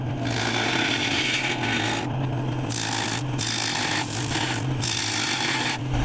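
A woodturning lathe spinning a cracked bowl blank at about 1200 RPM while a tool cuts material for the tenon, giving a steady close rasping, scraping whir in bursts with brief lighter gaps between cuts.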